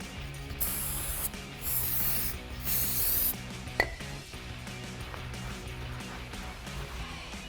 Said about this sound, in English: we'll go ahead and spray this down and then wipe it with a clean cloth